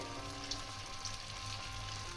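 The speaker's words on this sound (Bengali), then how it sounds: "আমি আলুর বলগুলোকে এক এক করে এর মধ্যে ছেড়ে দেব।" Cornflour-coated potato balls deep-fry in oil over a low flame, giving a soft, continuous sizzle and bubbling with a couple of faint pops, quiet throughout.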